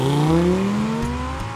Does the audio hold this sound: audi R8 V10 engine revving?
yes